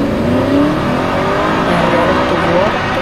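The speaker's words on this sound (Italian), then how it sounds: "Audi R8." An Audi R8 with a V8 engine revs continuously and loudly at close range, its pitch rising and falling through several sweeps with a steady roar underneath.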